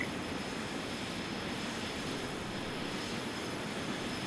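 A jet airliner in Flight Simulator X roars down the runway on takeoff from Edinburgh, with a steady, even engine drone held at moderate volume and no talking.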